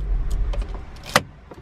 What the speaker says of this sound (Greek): να το σβήσω το αμάξι